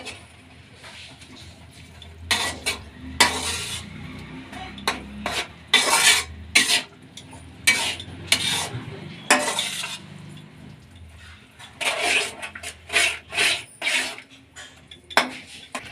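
Spoon stirring cabbage manchurian with coriander, spring onion and curry leaves in a pan, giving repeated close scraping and clinking strokes in short bursts, with no talking.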